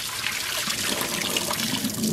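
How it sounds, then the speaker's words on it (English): Cold water runs onto a freshly tie-dyed shirt to cool it, making a steady, close splashing and trickling rush that lasts the whole time without any speech. "So I'm just adding some cold water to cool this down so I can handle it"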